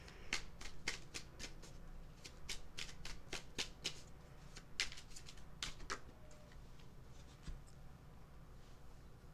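Tarot cards are shuffled by hand in a series of crisp, rapid riffling bursts, close and fairly quiet, with short pauses between flurries and no talking.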